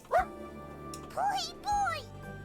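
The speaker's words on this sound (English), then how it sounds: "The dog cowers and whines." A video game dog whines and whimpers while cowering, giving three short, high, pitched yelps and whimpers in quick succession, close and clear over a quiet musical backdrop.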